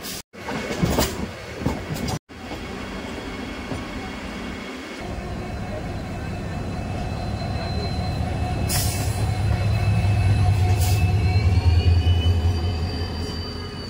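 Howrah to Digha local train running in India, heard from on board: brief loud clatter and a sharp cut at the start, then a steady rolling rumble that builds and grows louder, with high wheel squeal tones sustained over it.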